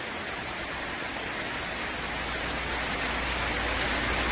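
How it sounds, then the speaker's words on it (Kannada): Heavy rain falls steadily during a village festival in Karnataka, a dense, even hiss that stays constant throughout with no voices. "ಫುಲ್ ಮಳೆ ಬರ್ತಾ ಇದೆ ನಮ್ಮೂರಲ್ಲಿ ಹಬ್ಬದ ಪ್ರಯುಕ್ತ."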